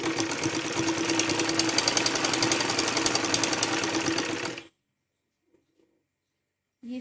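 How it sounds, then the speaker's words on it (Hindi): A sewing machine runs a straight seam on a salwar with a rapid, steady mechanical chatter for several seconds, then stops abruptly into near silence, with only a faint clunk at the end. "अच्छे से सेट करके इसके ऊपर एक सीधी सिलाई लगाएंगे।"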